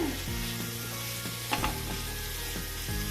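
Ginger and garlic paste frying in a pan during tawa pulao preparation, with a steady loud sizzle broken by a few clinks and scrapes of stirring throughout.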